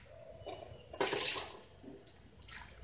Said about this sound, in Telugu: నేను కప్పుకి 2 కప్పులు వాటర్ వేసుకుంటున్నాను